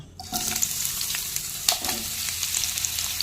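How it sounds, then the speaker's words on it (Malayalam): Sliced onions fry in hot oil in a pan, giving a steady, close hiss of sizzling with a few brief stirring scrapes. No one speaks. "ഞാനൊരു പാൻ അടുപ്പത്ത് വെച്ചു ഓയിൽ ചൂടായി ഇതിലേക്ക് സവോള സ്ലൈസ് ചെയ്തിട്ട് കൊടുക്കുക"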